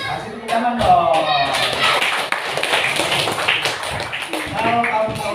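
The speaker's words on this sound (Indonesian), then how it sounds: "Kasih tepuk tangan dong." A classroom of children claps in a brisk, dense burst of applause filling the middle of the clip, with a teacher's voice speaking before and after it.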